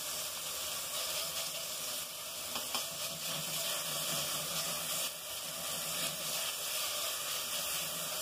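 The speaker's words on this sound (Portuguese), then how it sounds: "eu vou refogar um alho aqui." Garlic sizzles steadily in hot lard, a continuous crackling hiss with small pops, close and even throughout, with no voices.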